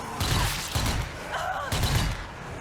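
Gunshots in the video game Zombie Army 4, two muffled thumping reports about a second apart amid game ambience.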